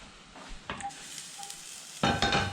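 A toastie toasts in a pan, with soft sizzling and a couple of louder scraping, stirring bursts close by and no talk.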